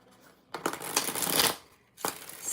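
Rider-Waite tarot cards being shuffled up close, two rustling bursts of riffling and sliding cards with a brief pause between, soft and papery.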